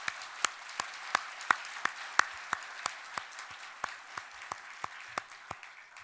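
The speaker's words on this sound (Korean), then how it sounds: "영광의 박수를 올려드리겠습니다" A church worship-service congregation in Bucheon claps in steady, evenly spaced beats, about three claps every second. The individual claps stand out sharply at moderate volume over a quiet room, with no talking.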